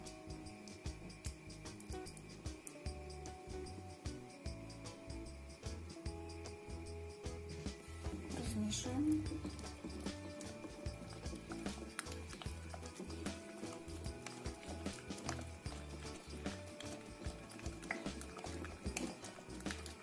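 A beaten egg and condensed milk are stirred together in a bowl, making quick, rhythmic tapping and sloshing strokes that continue steadily at close range.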